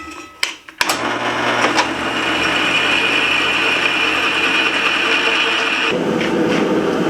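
A drill with a 1/2-inch bit countersinks holes in blacksmith-made wrench hooks, spinning up after a few clicks into a loud, steady whining grind that holds for several seconds and then drops off.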